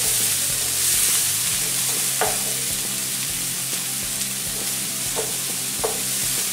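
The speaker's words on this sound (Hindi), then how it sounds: "ऑयल और बटर गर्म हो चुका है। इसमें हम ये शिमला मिर्ची डालेंगे।" Capsicum frying in hot oil and butter over a medium gas flame, a steady bright sizzle with occasional faint clinks of a spoon against the pan, close and continuous.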